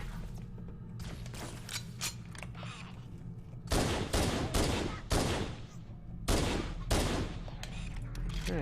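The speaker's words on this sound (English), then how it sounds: "Someone's firing a human weapon there." Weapon gunfire in Halo: Combat Evolved on Xbox Series X, a human weapon firing in bursts: a few lighter shots, then several loud, dense volleys of rapid fire with short gaps between them, mid-distance and with no talking.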